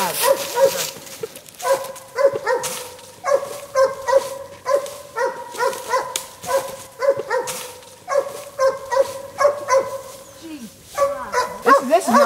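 A hunting dog barks at a squirrel in the woods, a long series of loud, rhythmic barks repeating steadily near the listener, with a few yips between them.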